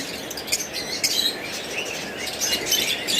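A pair of opaline pet birds in a bird shop chirps in quick, repeated high tweets over a constant hum of other caged birds and room noise.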